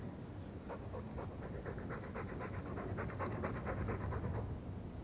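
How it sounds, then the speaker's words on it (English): Mabari war dog in the Dragon Age 2 video game panting steadily, a rapid rhythmic run of breathy huffs, close and continuous over a low ambient hum, with no voices. "All that noisy dog breath, day in, day out, make him stop."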